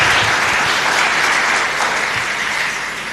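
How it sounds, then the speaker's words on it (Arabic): Applause from an audience in a Chaldean Catholic church in Baghdad at a First Communion Mass, honoring a young girl; steady, dense clapping fills the space throughout, close and loud, gradually easing toward the end. "تفضلي، صفقوا لها اليانا"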